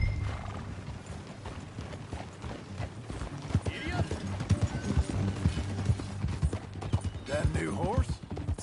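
Horse hooves clip-clop steadily while riding in Red Dead Redemption 2, a continuous galloping rhythm over background music and game ambience, with a whinny near the end.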